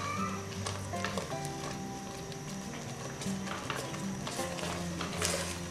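A Congolese peanut paste dish with smoked fish cooked in plenty of oil in a pot, stirred continuously: soft scraping and knocking over a constant sizzle, close and fairly quiet.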